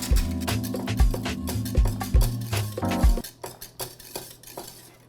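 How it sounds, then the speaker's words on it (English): Thick pastry cream being stirred in a pan, a utensil scraping and clinking against the metal in a steady repeated rhythm for about three seconds, then fading to quieter scraping, close and fairly loud with no talk. "So I'm stirring it consistently."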